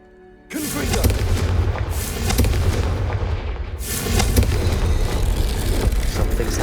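A Confringo fire spell blast in Hogwarts Legacy, bursting in suddenly with a loud boom that gives way to a sustained roaring, crackling rumble, with further swells of blasts following.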